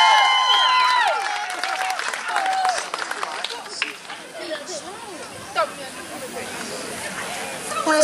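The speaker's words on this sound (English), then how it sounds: "Give a round of applause for the good girls" Audience applause for performers on stage: loud clapping and cheering at the start that thins into scattered claps and crowd chatter, with voices talking over it.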